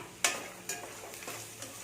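Cashews, already roasted, are stirred into a pan of frying egg masala, making a few scraping, clinking stirs over a low, steady sizzle, with no voices.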